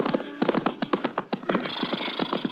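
A horse's hooves clip-clop at a steady, brisk rhythm as a sound effect in a 1950 Texas Rangers western radio drama. The beats are close and prominent, with a faint whinny-like tone near the end.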